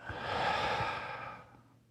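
A single long, soft exhalation during guided meditation, a breathy sigh that swells and then fades away, close and quiet with no talking over it.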